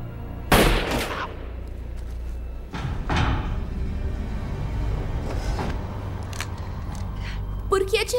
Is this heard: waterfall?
no